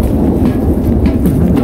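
Thunder rumbles during snowfall at a Korean market, a loud, deep, continuous roll that fills the short moment with no voices over it.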